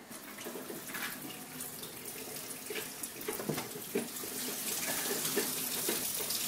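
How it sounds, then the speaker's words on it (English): Water running from an opened tap on a boiler-fed hot water system, a steady rushing splash that builds slightly louder toward the end, with no talk over it. "I'll just show you by opening up the tap."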